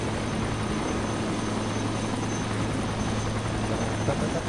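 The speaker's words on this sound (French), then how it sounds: "Un autre hélicoptère." Steady helicopter rotor drone in the video game ARMA 2, loud and continuous, with a constant low thrum and no voices over it.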